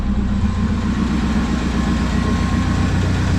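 A Renault 5 GT Turbo engine with EFI conversion idles steadily, low and even, rumbling on without revving, close by and continuous.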